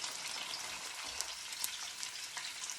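Room-temperature wahoo and yellowtail tuna fillets searing in a hot pan, a steady bright sizzle with faint crackles and pops, close and continuous, with no voices.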